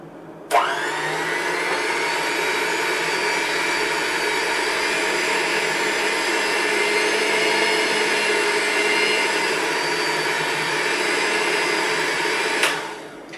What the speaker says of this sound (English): I'm going to hold the jar tightly because it is going to want to move, and I'm going to put my blender on the lowest speed.